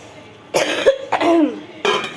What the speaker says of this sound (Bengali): এই যে এত কাশি হচ্ছে